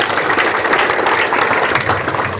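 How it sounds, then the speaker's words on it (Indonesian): Audience clapping together at a presentation, a continuous dense patter of hands at moderate loudness with no voices over it. "Tepuk tangan buat kita semua."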